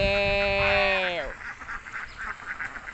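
A long, drawn-out duck call dips in pitch at its end, then softer scattered quacks follow nearby.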